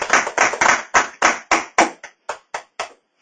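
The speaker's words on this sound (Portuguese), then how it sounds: "Palmas para o Senhor Jesus." A church congregation claps in praise, with about a dozen sharp, strong claps in a steady rhythm that gradually spread apart and fade near the end.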